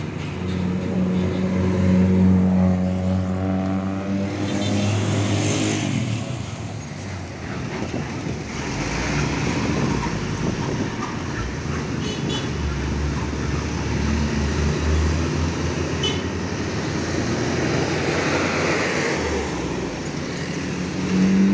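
Harapan Jaya intercity bus passing along an Indonesian road through the Keras area, its engine drone rising, swelling close by and fading, with steady traffic noise around it.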